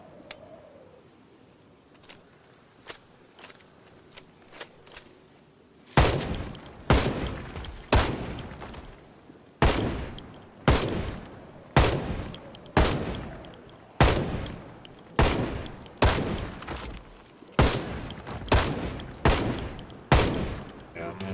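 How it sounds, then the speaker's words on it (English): Gunfire from a gun in Project Zomboid, a long series of loud, close single shots at a fairly even pace of about one per second, each ringing out briefly, after a quieter stretch of faint clicks, with no talking. "Actually, now would be a good time to use the gun."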